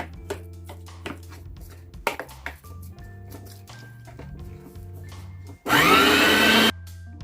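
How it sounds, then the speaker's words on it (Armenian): An electric meat grinder minces meat with soaked bulgur for kibbeh (ishli kufta). Kitchen clinks and handling noises come first, then the motor gives a loud, steady whir for about a second near the end. "թրջած բլղուրին և մսաղացով անց ենք կացնելու"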